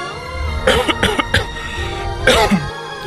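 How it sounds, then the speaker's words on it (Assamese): A man coughs nearby in a burst of several harsh coughs, then pauses and gives a second short fit, alone without talking. "দেউতা তুমিনো এতিয়া কিয় কাহি আছা এনেকৈ"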